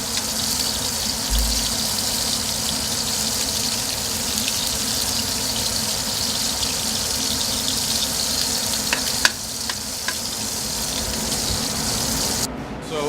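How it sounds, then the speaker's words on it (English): Scallops searing in a hot pan in a restaurant kitchen give a steady, broad sizzle that runs unbroken for the whole stretch at moderate loudness, with a few faint clinks near the end and no talking. "the key with this to get a nice sear on a scallop is once you put it in the hot pan, leave it alone"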